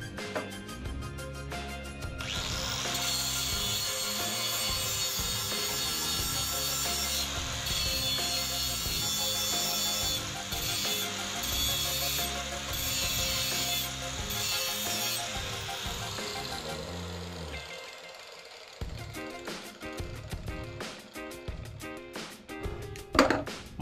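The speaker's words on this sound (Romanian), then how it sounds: "Acum le ascut pe partea asta la altă." A homemade ninja throwing star having its edges sharpened by hand, heard as close, repeated rasping strokes in a regular back-and-forth rhythm that run for most of the stretch before breaking into shorter, irregular scrapes.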